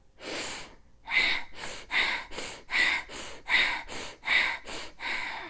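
Breath of Fire rapid breathing exercise: a person takes about ten quick, forceful rhythmic breaths through the nose, close and loud, with a brief pause after the first breath before the steady pumping rhythm begins.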